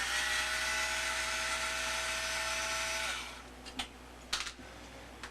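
A powered screwdriver or drill whirs steadily while backing screws out of a Nintendo NES-001 control deck, then stops and is followed by a few small clicks and clatters of screws being set down.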